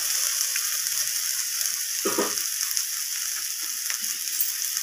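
Ginger and garlic paste sizzle with spices in a hot pan, a steady close frying hiss with a brief scrape of stirring partway through.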